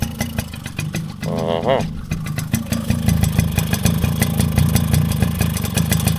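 Small 26-year-old Suzuki LT50 quad engine idling close by with a steady rattling putter, while someone talks over it.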